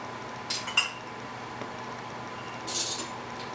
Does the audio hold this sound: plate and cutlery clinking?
yes